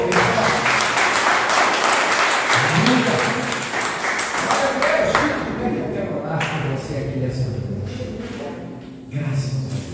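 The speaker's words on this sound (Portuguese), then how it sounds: "Você pode aplaudir ao Senhor." A church congregation bursts into loud, dense applause that thins over several seconds into scattered claps, with voices calling out underneath.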